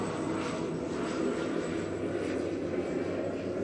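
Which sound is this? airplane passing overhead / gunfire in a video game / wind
airplane passing overhead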